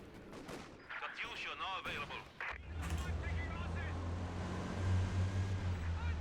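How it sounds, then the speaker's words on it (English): Katyusha rocket artillery barrage in a competitive 2v2 strategy video game, rapid rumbling launches and blasts rolling into a dense, continuous roar of fire, with a commentator talking over the first part. "Barrage coming in, not hitting too much though."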